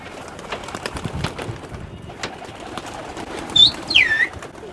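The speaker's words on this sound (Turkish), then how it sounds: "he's opening up for the pigeons to show us how they fly and come back" Pigeons released from an open coop, with faint wing flutters, scuffling and a couple of short bright chirps near the end over a low outdoor background.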